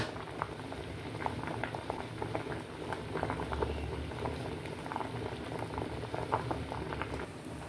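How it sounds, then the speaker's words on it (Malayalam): Curry bubbles at a rolling boil in a pot, a continuous close patter of popping bubbles that stays steady throughout with no voices. "ഇപ്പം നന്നായിട്ട് തിളച്ച് വന്നിട്ടുണ്ട്."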